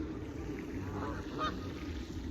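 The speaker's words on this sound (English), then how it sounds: "Look at these geese." Geese honk a few times at middle distance over a low, continuous outdoor rumble, with the calls clustered near the middle of the stretch.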